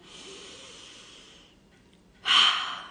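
A deep breath in, heard as a long soft airy inhale, a brief pause, then a louder, sharper rush of breath, close and alone.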